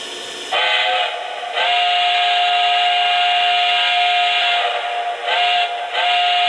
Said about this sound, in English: So the whistle steam works, so you can see it coming right out of there.